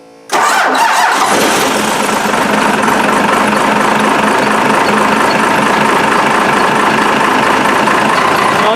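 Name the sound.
first gen Cummins diesel engine starting and idling in cold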